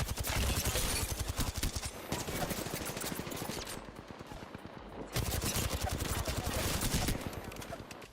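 Rapid automatic gunfire bursts from Apex Legends battle royale gameplay, loud and dense, with dense volleys broken by short pauses and faint voice chat mixed underneath.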